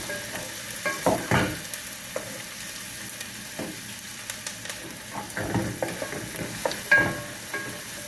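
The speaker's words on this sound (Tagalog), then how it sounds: "Hindi ko na siya binilender at ganito na gigisahin ko lang siya." Onion and tomato sauté in a pan, a soft sizzle broken by repeated scraping stirs of a spoon, close and fairly quiet, with no voices.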